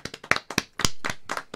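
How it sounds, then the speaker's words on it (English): Crisp hand claps in an uneven series of about seven sharp, close strikes, loud and dry with short gaps, from a small group or single person on a talk show set. "Yeah, that was a real clap."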